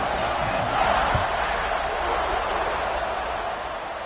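A stadium crowd roars steadily in a college football video game before a kickoff, a dense continuous wall of cheering noise with a few brief thumps early on.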